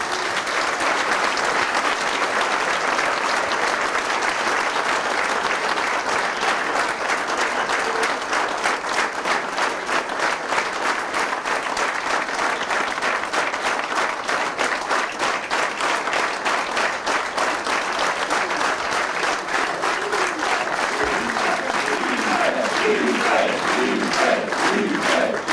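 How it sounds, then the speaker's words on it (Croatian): Political rally crowd giving a long, loud round of applause for Ivica Dačić, dense rhythmic clapping with scattered shouts and crowd noise sustained throughout. "Ivicu Dačić, jedan veliki aplauz za Ivicu Dačića."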